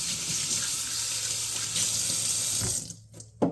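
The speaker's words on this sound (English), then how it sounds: "I'm going to wash my hands right here at the sink." Tap water runs steadily into a kitchen sink as hands are washed with dish soap, a continuous close splashing that breaks up and thins near the end as the hands move in and out of the stream.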